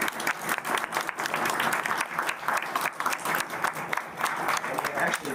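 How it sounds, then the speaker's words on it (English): An audience at a city council meeting gives a round of applause, dense steady clapping from a room full of people lasting several seconds at moderate volume, with no talk over it. "Let's give them a round of applause."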